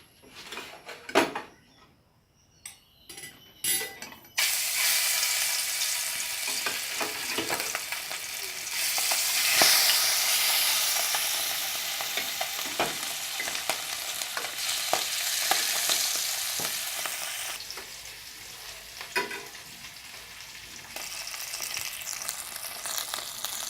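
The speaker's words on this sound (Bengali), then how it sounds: "তো এবার আমি মাছগুলো ভেজে নেব।" Fish fry in hot mustard oil with a steady, fairly loud sizzle and crackle, preceded by a few sharp handling knocks and broken by occasional spatula or pan clicks.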